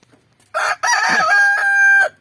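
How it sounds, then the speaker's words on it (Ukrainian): A backyard rooster in a summer coop crows once, close and loud, its drawn-out cock-a-doodle-doo rising and holding steady before cutting off, with faint clucking from the flock just before. "Наш півень видає голос, щоб його чули теж на відео"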